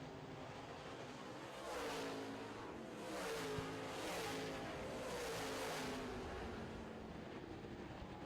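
Late model race cars coming out of turn 4 at a dirt oval, a distant engine roar that swells and fades as several cars pass in waves, heard alone without talk.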